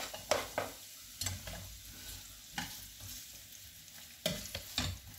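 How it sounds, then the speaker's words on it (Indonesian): Shallots and garlic frying in hot oil, a steady crackling sizzle broken by several louder bursts of stirring and scraping in the pan, close and without talk. "Kita masukin bawang merahnya"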